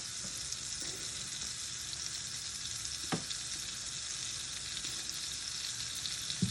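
Meat frying in sunflower oil, a constant dense crackling sizzle that fills the whole clip with one sharp tap partway through and no talk.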